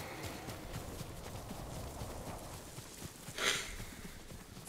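Horses gallop in the video game Ghost of Tsushima, a quiet run of rapid clip-clop hoofbeats heard faintly in the distance, with a brief louder burst near the end.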